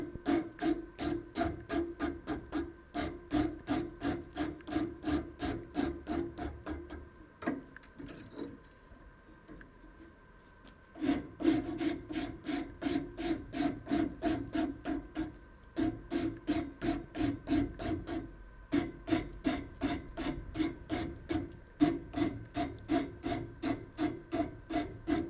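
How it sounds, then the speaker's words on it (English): A large coarse rasp files excess gypsum off a plaster mold in steady rhythmic strokes, close and loud, with a brief pause midway before the scraping resumes. "I have this rasp, and I'm gonna take off the big extra gypsum we don't need in the process"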